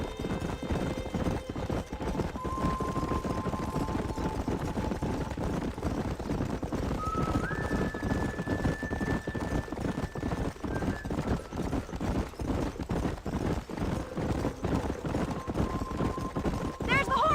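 Horses clip-clop and neigh in the Red Dead Redemption video game. Steady hoofbeats run throughout, with whinnies and a background score, and a voice talks now and then over them.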